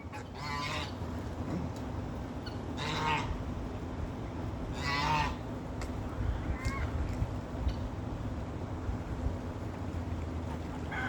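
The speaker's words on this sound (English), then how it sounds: "Rose, that goose is gonna bite you." A goose in a garden honks in three or four loud, raspy bursts a few seconds apart over steady outdoor background noise, with no talking.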